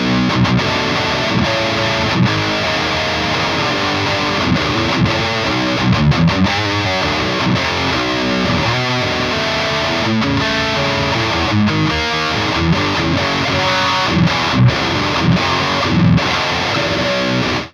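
Heavily distorted high-gain electric guitar riffing through a Celestion Vintage 30 speaker, close-miked with a Shure SM57 and unfiltered, plays dense palm-muted chugs and chords, loud and continuous throughout.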